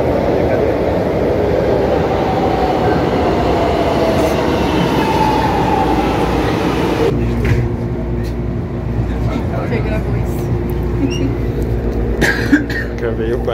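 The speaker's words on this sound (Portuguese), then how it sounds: "Hoje vamos de metrô." Subway train riding on rails, a loud constant rumble and rattle from inside the car that changes tone partway through, with faint voices in the background.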